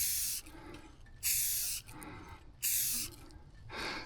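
An aerosol can sprays a matte grip finish onto a dragon paddle shaft in three long hissing bursts separated by brief pauses, close and fairly loud.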